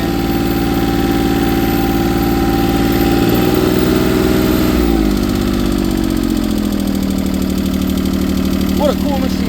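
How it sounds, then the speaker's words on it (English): A 1980 Case International 1120 three-cylinder diesel tractor engine idles loud and close with a steady, throbbing rumble that dips briefly midway and then settles again. A voice talks over it. "Got her running, 3-cylinder diesel international."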